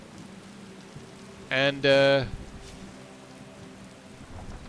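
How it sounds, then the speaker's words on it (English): Steady, soft rain in Skyrim hisses in the background while a voice briefly speaks over it. "Ah, rain."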